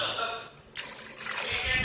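Water is poured over a cooking pot being washed, a rushing splash that dips briefly and then surges back louder and steadier.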